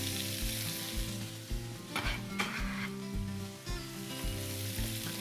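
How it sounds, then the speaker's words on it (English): Cabbage and other ingredients sizzle steadily in a saute pan, a loud continuous fry with a low humming drone beneath and a few brief clinks and scrapes of stirring, with no talking. "Let's go ahead and get the rest of our ingredients into our saute here."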